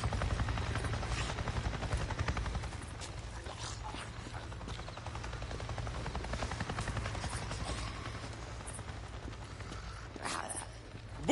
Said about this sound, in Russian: Вертолет Неро прошел прямо надо мной и как будто меня не заметил.